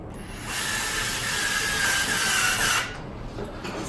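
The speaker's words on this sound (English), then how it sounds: "And then you just want to fasten that screw again." A screw is driven back into a NASH CoolSmart pedestal fan with a steady mechanical whir and ratcheting buzz for about two seconds, close up, followed by quieter handling noise.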